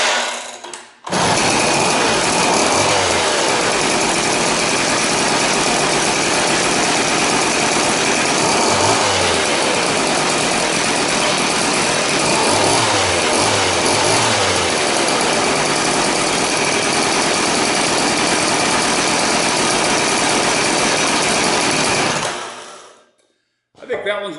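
A rebuilt McCulloch 6-10 chainsaw engine runs steadily and loud at close range for about twenty seconds, a continuous buzzing drone with slight changes in pitch, then cuts off abruptly.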